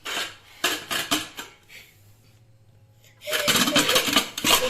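Lid of a pressure cooker holding cooked khichdi being handled and opened, with sharp metallic clanks and scraping at first, a quiet low hiss in the middle, then loud, dense rattling clatter of metal utensils.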